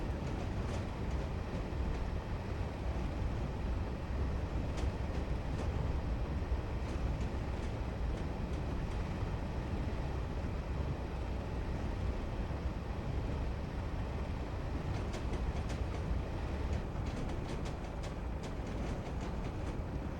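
In the Train Simulator 2021 game, a train on the Taunton to Exeter route rolls into a depot, giving a continuous low rumble with rhythmic clicks and clatter of wheels over track joints, steady and fairly quiet, with no talk.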